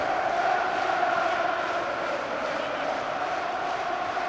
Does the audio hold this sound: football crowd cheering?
yes